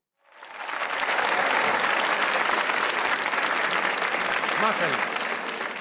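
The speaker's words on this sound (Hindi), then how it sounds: "और अंकल आप भी ताली बजा रहे थे।" Studio audience at a comedy talk show breaks into loud, sustained applause that rises quickly and holds steady throughout, with a brief voice cutting in near the end.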